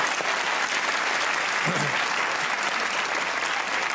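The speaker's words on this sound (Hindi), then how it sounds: "अम्मी के लिए तालियां होनी चाहिए" Studio audience applause on a comedy talk show, loud and continuous clapping filling the stretch, with a brief low voice murmur midway.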